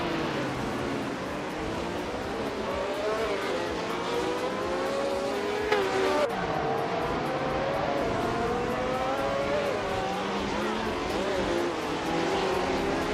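Race cars speed around a track in a video game, several engine whines rising and falling in overlapping pitch sweeps at moderate volume.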